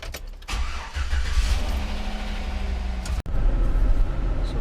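A 2008 GMC Yukon XL engine cranks and fires, then settles into a steady idle, heard close and fairly loud with no talking; a brief dropout near the end is followed by continued engine rumble.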